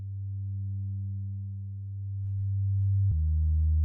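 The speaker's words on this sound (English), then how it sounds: "he'll have a bass like this where it's still giving you that deep sub" A deep, steady detuned synth sub bass drone with a slow wobble in loudness, shifting pitch slightly near the end before cutting off abruptly.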